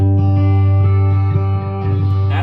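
Electric hollowbody guitar (PRS SE Hollowbody II) played through its piezo pickup into an electric guitar amp with delay and reverb, giving sustained ringing chord tones with soft repeated attacks and a lingering tail.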